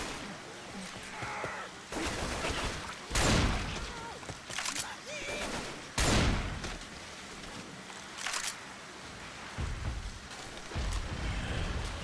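Gunfire in the video game Left 4 Dead 2, Hard Rain campaign, comes as sharp, loud bursts scattered irregularly over a constant background of game noise.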